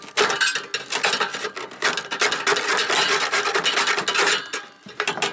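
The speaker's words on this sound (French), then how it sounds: "moi je procède à froid et je gratte à l'aide d'un tournevis" Screwdriver scraping tar and carbon deposits from the inside walls of a metal beekeeper's smoker, a continuous harsh rasping with rapid back-and-forth strokes, close and loud.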